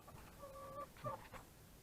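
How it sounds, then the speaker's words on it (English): A flock of big backyard chickens near laying age, soft close clucks and a short drawn-out call, faint and brief. "We got us some chickens."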